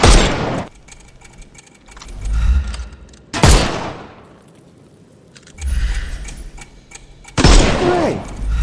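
Gunfire in Sherlock Holmes Chapter One as armoured enemies are shot at: three loud, sharp blasts spaced a few seconds apart, each followed by a decaying rumble.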